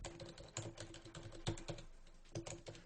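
Rapid, uneven clatter of keys on a computer keyboard as a SQL injection query is entered, soft and close in a quiet room with no voices.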